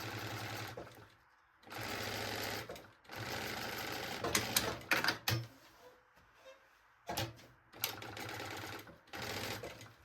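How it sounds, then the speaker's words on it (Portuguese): A sewing machine stitches a synthetic backpack strap in bursts of rapid, close running, separated by short pauses and the clicks and handling noises of repositioning the work. "Vou posicionar e costurar"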